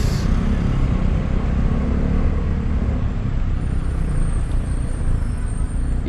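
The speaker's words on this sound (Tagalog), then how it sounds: "Yikes, traffic." Steady road traffic rumbles loudly and continuously, a dense wash of engine and tyre noise with no voices.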